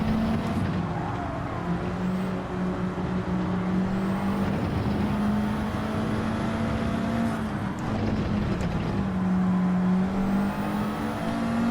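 Race cars at night in Gran Turismo 7 at Road Atlanta drone with a steady, loud engine note that rises and falls in pitch through gear changes and corners, continuous for the whole stretch.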